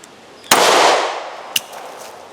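A single sharp gunshot from a Taurus PT-111 G2 pistol fired with a faulty magazine goes off loud and close, followed by a fading tail and a smaller metallic clack about a second later.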